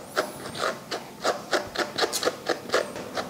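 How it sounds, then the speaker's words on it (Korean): A comb is drawn through a dog's tangled fur in steady, regular strokes, each a short bristly rasp repeating about twice a second, close and fairly quiet with no talk. "자, 이렇게 전체적으로 한번 빗어 볼게요."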